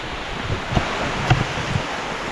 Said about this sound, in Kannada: ಇಲ್ಲಿ ಜೋರಾಗಿ ಮಳೆ ಬರ್ತಿದೆ ಸೌಂಡ್ ಕೇಳಿಸ್ತಾ ಇರ್ಬೋದು ನಿಮಗೆ